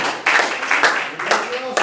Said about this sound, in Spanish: Démosle a Él una ofrenda de palmas